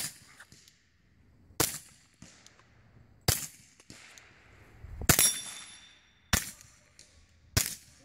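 A suppressed Kel-Tec Sub2000 in .40 fired in a slow string of about six sharp, cracking reports spaced a second or so apart, each with a short ringing tail, outdoors with no talk.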